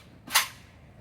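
A single sharp pistol shot fired from a 3D printed cheek chassis at an outdoor shooting range, one crisp crack that rings out briefly and then fades, with no talk over it.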